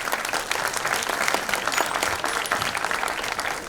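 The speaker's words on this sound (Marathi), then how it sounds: "टाळ्यांचा प्लीज." An audience at a Marathi film trailer and poster launch applauds, producing dense, sustained clapping that stays loud and even for several seconds with a faint crowd murmur underneath.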